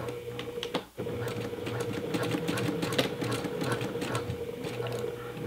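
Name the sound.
sewing machine stitching fabric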